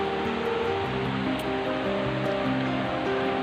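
Steady rushing water of a clear stream beside a campsite at Khlong Maduea, Nakhon Nayok, Thailand, fills the scene, a continuous broadband wash with faint music threaded underneath, close and unbroken throughout.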